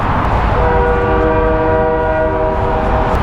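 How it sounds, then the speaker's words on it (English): A train horn sounds a long, steady, rich chord as the train rolls past, loud and near over continuous rumbling noise from the wheels. "There's always trains."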